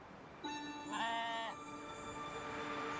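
One short, wavering bleat from a sheep in the RuneScape video game sounds faintly over a quiet background.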